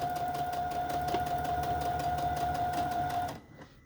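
A sewing machine runs a zigzag stitch over a roll of fabric and lace snippets, a steady close whirring hum with a high motor whine that continues for about three seconds before cutting off abruptly.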